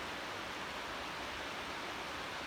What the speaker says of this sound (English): That is a big waterfall.